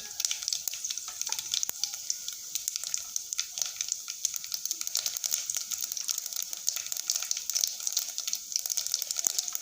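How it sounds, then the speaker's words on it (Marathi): Cumin and mustard seeds splutter in hot oil for a vegetable dish, a crackling sizzle with a busy scatter of sharp pops and snaps, up close and continuous, with no speech. "मस्तपैकी जिरे मोहरी तडतडत आहेत"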